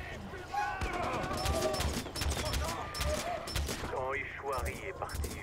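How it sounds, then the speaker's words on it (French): Rapid bursts of machine gun fire in Far Cry 4, sharp dense volleys in the foreground mixed with game sounds, while someone talks over them. "Mais c'est une mitraillette le bordel."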